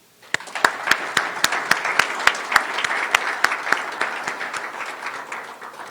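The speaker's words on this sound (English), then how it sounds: "Please help me give them a round of applause." A round of applause for SCAT members starts with a few sharp, distinct claps, then swells into steady crowd clapping with prominent individual hand claps that keep regular time above it.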